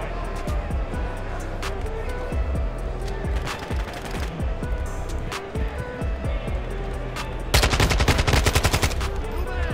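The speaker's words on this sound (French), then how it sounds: "Pompe, ah ça c'est du pompe qui tabasse." A pump shotgun fires in Modern Warfare 2 amid a busy firefight: irregular loud shots and clattering gunfire throughout, ending in a dense rapid burst, with someone talking over the action.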